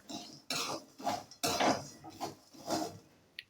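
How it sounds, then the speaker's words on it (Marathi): Roasted chana being tossed in a pan at home: several loud bursts of rattling, clinking grains against metal, separated by short pauses, close and distinct. "हे बघा एकदम टचटचीत असे फुटत आहेत"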